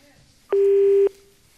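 A telephone dial tone plays during an outgoing call, a single steady electronic tone lasting about half a second, clear and loud over a quiet background.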